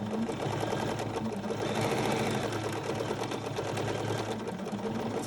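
Bernina sewing machine running under power with its stitch regulator, a continuous even motor hum and fast steady needle chatter, fairly quiet and close with no pauses.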